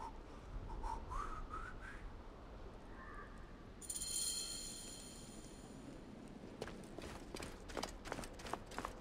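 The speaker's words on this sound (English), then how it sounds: "Some people just should not whistle." A character whistles a rising tune in Assassin's Creed Origins, faint and thin over ambient game sound, followed by hoof clip-clops and footsteps.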